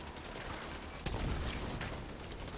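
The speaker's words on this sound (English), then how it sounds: "This big dude is just laying bullets into me, sir." Minigun fire in The Division 2 roars as a dense, continuous burst of rapid shots, loud and close, with a slightly harder surge partway through.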